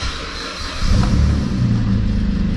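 A Saturn car engine fires up and revs: quieter cranking noise gives way to a louder, steady mid-pitched engine run that holds close and strong to the end, with no talking.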